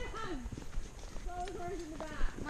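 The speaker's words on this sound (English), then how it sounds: "My horse is walking up Laura's butt." A horse walks along a trail with steady hoof clip-clop, mostly masked by people talking over it throughout.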